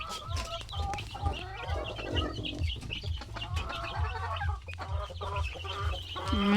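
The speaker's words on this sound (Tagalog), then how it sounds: "Yung mga sisiw natin," Chickens and young chicks clucking and peeping together in a Philippine backyard flock, a steady overlapping chorus of soft clucks and high chirps, close and moderately loud with no talking.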